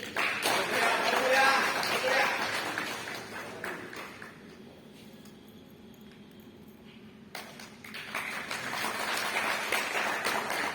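Applause from an audience at a national Mallakhamb championship posture event, loud crowd clapping that drops away to a quieter pause with background murmur, then swells again toward the end.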